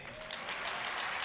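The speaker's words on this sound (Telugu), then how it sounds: "చప్పట్లు కొట్టండి" A congregation applauds at a Hosanna all-night church service in Vijayawada, dense clapping that swells and grows louder over its short span.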